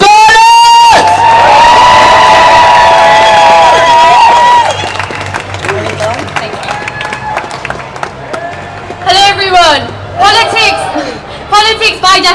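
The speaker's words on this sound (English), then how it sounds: "let's give her a big round of applause." A large crowd at a left-wing political rally cheers and applauds loudly, with a sustained whoop over the clapping that then drops into quieter applause as voices and shouts rise again.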